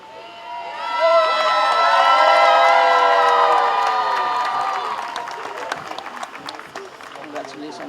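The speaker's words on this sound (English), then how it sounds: "Let's give them a round of applause for this outstanding accomplishment." A graduation ceremony crowd bursts into applause and cheering with high whoops and shouts, swelling loud after a second, then thinning into scattered claps.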